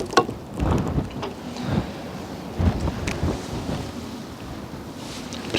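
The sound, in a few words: autumn wind at second floor of wooden house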